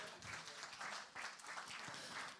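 Applause greets Rupert Schissel as he joins a business leaders' colloquium in Avignon, a soft, steady patter of clapping that stays fairly faint and distant throughout.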